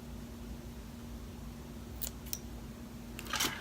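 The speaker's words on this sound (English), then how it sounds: "so I had to go get some scissors" Scissors snip string for box braids, a few quick isolated cuts heard close up against a quiet room hum, with a small cluster of snips near the end.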